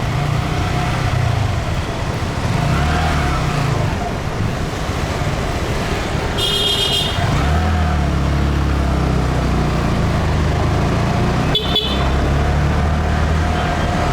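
Busy Saigon street traffic from a Honda Grom ride: a steady engine drone and wind rush, with two short car horn blasts cutting through, one midway and one near the end.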